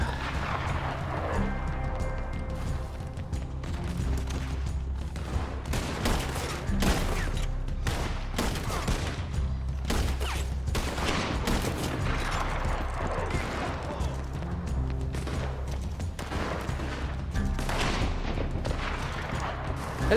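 Video game shootout with rapid bursts of gunfire, repeated sharp shots and booms in dense volleys for the whole stretch, with little talking.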